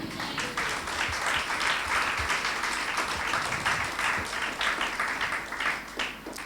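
A church congregation applauding loudly and steadily during a service, many hands clapping together throughout without a break.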